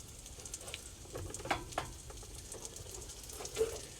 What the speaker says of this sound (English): That butter's really sizzling in the bottom.